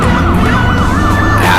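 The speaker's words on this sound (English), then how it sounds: "Ambulance?" Loud ambulance siren wailing up and down in steady sweeps over heavy low traffic rumble on a city street.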